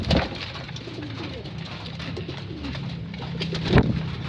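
Pigeons cooing in a loft during morning rounds before feeding, soft repeated low coos close by over a steady background murmur, with a louder flutter near the end.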